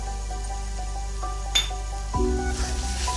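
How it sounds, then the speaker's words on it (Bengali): A spoonful of tomato sauce going into simmering paneer masala, a soft clink and splat of the spoon against the pan over steady low sizzling, with faint background music tones. "টমেটো সস এক চামচ দিয়ে দিলাম"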